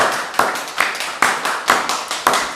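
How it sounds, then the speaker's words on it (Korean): A church congregation claps together in a slow, unified rhythm, six sharp, evenly spaced beats ringing out in a reverberant hall, with no talk over them. "박수로 하나님께 영광 돌리겠습니다"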